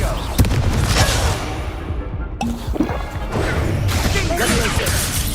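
Blasting spell explosion from Hogwarts Legacy gameplay, a loud crashing burst with booming impacts and debris layered over continuous game ambience and effects.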